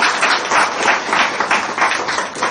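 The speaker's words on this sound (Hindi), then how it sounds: "एक बार जोरदार तालियां हो जानी चाहिए।" Loud, rhythmic applause from an audience at a Himachal government event, with the clapping swelling in regular waves throughout the short stretch and no talk over it.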